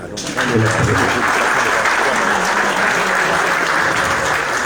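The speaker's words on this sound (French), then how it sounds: "Est-ce que nous pouvons l'applaudir?" Loud, sustained applause from an audience at a political party headquarters gathering welcoming a political prisoner, a thick, even roar of many hands clapping close by with faint voices mixed in.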